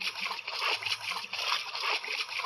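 Water in the mobile battle game BGMI splashes and sloshes continuously in a close, hissing wash, with no pauses over the short stretch.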